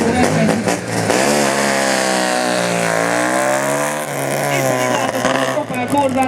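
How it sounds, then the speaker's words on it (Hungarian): An Opel Corsa with a 2000 cc engine and twin rear exhausts revs at a car skills competition, holding a loud sustained engine note that rises and dips as the revs change. "Opel Corzát, amiben egy 2000-es motor van."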